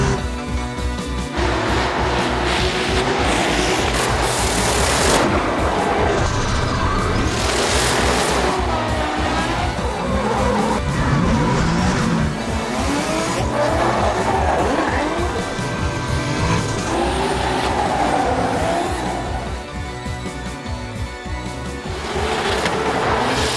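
Drift cars battle at the 2018 Drift Masters European Championship round in Toruń, Poland, with loud, sustained engine revving and bursts of screeching tire squeal that surge and fade throughout.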